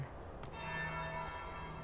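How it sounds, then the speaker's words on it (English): A church-style bell tolls once in a PS4 video game scene, a single struck chime whose long ringing tone hangs and slowly fades over a steady tavern-like background hum. "That would be the second bell."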